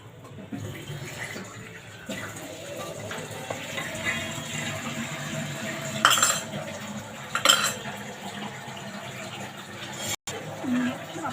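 Spoon stirring chicken vegetable soup in a metal pot, soft scraping and clinking with a few sharper knocks against the rim, fairly quiet.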